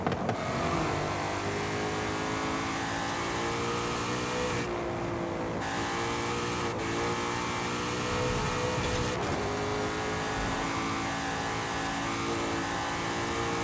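Stock engine of a car in Forza Horizon 5 revving hard and continuously, loud and steady with rising and falling pitch through gear changes, no talking over it.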